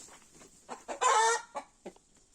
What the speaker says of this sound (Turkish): Hint tavuklarımız da artık horoz falan gelince gurk gurk gurk demeye başladı.